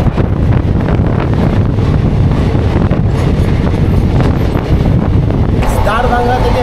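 The 13510 Gonda Asansol Express runs at speed, giving a loud, steady roar with heavy wind buffeting throughout and a brief whine near the end.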